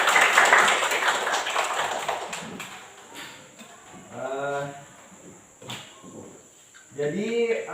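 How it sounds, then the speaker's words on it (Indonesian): A primary school class claps for a pupil, a brief burst of scattered clapping from a room of children that quickly fades as a teacher's voice resumes. "Tepuk tangan untuk Ayu nih."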